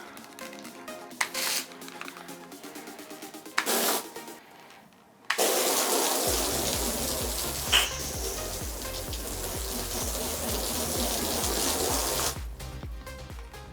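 Water running and splashing hard over car glass treated with Glaco hydrophobic coating, a loud continuous rush beginning partway through after quieter intermittent spraying, then cutting off near the end.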